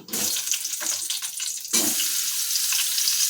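Chopped tomatoes hit a hot pan of panch phoron for a home-style mixed-vegetable labra, giving a loud, close hissing sizzle that surges sharply partway through and then settles into continuous frying crackle.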